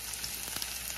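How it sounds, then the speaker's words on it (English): Butter melting in a pan on low heat while cooking chili dogs, giving a faint, steady crackling sizzle with soft irregular pops, heard close and alone for about a second. "I'm gonna put a little butter in here now."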